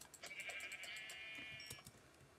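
Sheep in the Minecraft video game bleat repeatedly in a quick, wavering series of cries, moderately loud and close, with a few clicking game sounds scattered through.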